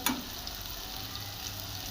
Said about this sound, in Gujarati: આ રીતે આ પણ બધું હલાવ મિક્સ કરી લઈશું આપણે